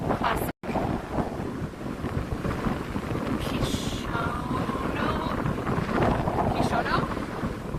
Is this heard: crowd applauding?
no